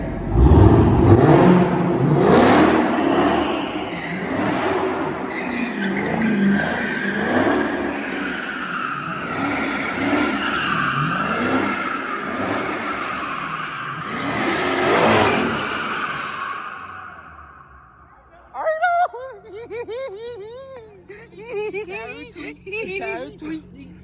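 Corvette Z06 revving hard and spinning its tires in a burnout, a loud roaring engine with squealing rubber that fades out, followed by people talking nearby.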